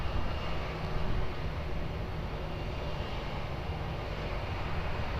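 An airliner takes off from runway 20 at Lisbon Airport, its engines a steady, distant broadband roar that holds level throughout, with no speech.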